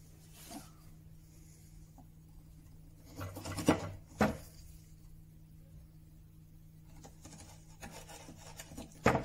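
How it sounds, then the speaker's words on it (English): A chisel carving wood at a workbench while a wooden camera is restored, giving a few scraping, rasping strokes in short bursts around a steady low hum, close but quiet with pauses between strokes. "Just chisel a bit more out."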